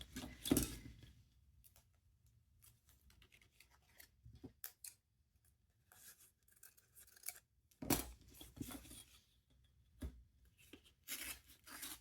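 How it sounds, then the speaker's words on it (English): Scissors snip through a paper file folder being cut for a tall skinny junk journal, several sharp close crunching cuts in bursts separated by quiet pauses, with no speech. "I'm going to cut this here."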